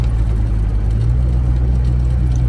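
A steady low engine drone from a Ford Fox-body car cruising along slowly, constant and fairly loud with no talking.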